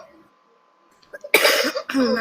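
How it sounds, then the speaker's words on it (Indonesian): A woman coughs a few times in quick succession, starting after a quiet stretch with a faint steady hum, loud and close. "ini tiba-tiba batuk ini"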